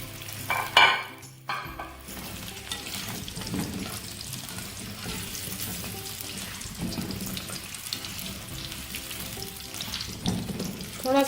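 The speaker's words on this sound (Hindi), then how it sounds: "इसको गर्म कर लेंगे और उसमें हम अपने टिंडे फ्राई करेंगे।" Tinda (apple gourd) fries in about a cup of hot oil, giving a continuous crackling sizzle heard close up, with a brief clatter near the start and occasional louder spits.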